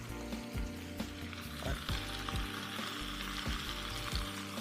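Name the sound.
fish body placed into a hot pan, sizzling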